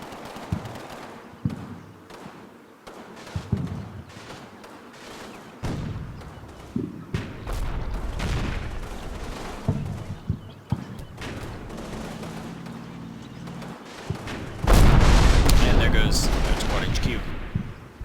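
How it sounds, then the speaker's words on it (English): Mortar and machine gun fire in the wargame Combat Mission, sharp gunshots and heavy thudding blasts scattered across the stretch, with a loud sustained burst of explosions and rattling fire near the end. "Meanwhile, you can see our mortar shots going a little bit wild."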